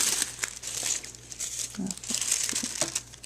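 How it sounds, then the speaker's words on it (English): Sheets of tissue paper crinkle and rustle in close, bright bursts as they are folded over into layers for a party favor craft, with faint talk now and then. "I'm just going to go ahead and fold it over again."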